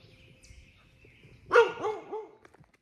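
A dog on a rural trail lets out a short burst of several barks, one sharp bark followed by two or three softer, falling ones at moderate distance, with quiet ambience before and after.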